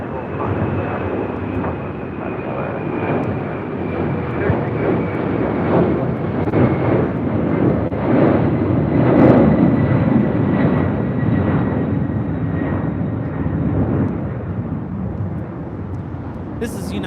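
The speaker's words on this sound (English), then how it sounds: "United Airlines 3029 taking off to Chicago O'Hare on a 767-300ER" A United Airlines Boeing 767-300ER taking off at LAX, a steady loud jet engine roar that swells gradually and holds throughout, heard from nearby on the airfield with a faint high whine above it.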